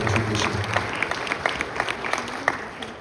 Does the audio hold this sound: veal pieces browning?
no